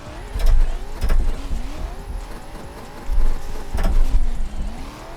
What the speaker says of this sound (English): let's actually test the car on its one lap on this track.